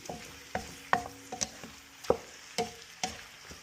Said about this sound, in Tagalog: Ganito ang paghalo sa wok.